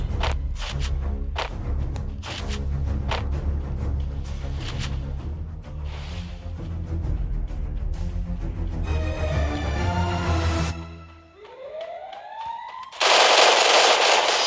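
An MP40 submachine gun fires in long, rapid bursts of loud automatic gunfire in a video game, mixed with thuds and game effects, then a rising tone and a burst of bright noise.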